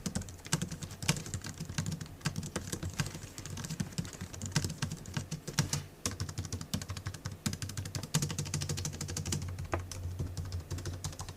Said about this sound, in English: that's going to create for a really quiet typing experience